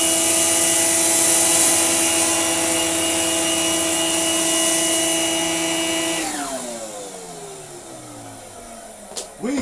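A Numatic NV200 vacuum cleaner fitted with a homemade powerhead picks up sawdust: a loud, steady high-pitched motor whine with strong tonal hum, then spinning down to a fading drone, ending with a couple of knocks.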